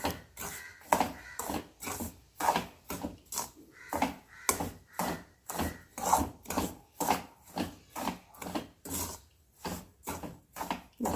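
Rava laddu mixture with powdered sugar being stirred in a pan, a steady rhythmic rasping scrape of about a dozen strokes, close and fairly loud, with no talking.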